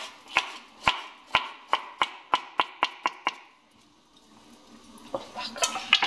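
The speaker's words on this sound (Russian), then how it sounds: "Я его режу полосочками." A knife chops vegetables into strips on a cutting board for a vegetable salad with fish, about eleven crisp, evenly spaced strikes, then a pause and softer kitchen clatter.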